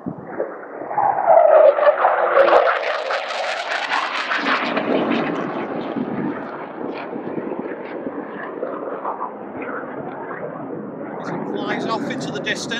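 An airplane passes overhead, its roar swelling to a loud peak before slowly fading into the distance, with a few birds chirping near the end.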